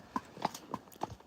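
Horse hooves clip-clopping in Cartmel, Cumbria: four light, evenly spaced hoof strikes, fairly faint, with no voices over them.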